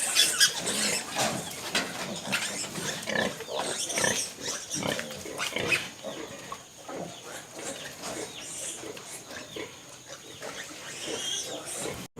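A sow with her newborn piglets in a dim pen at night, a busy chorus of high squeals, grunts and oinks overlapping continuously, close and lively throughout.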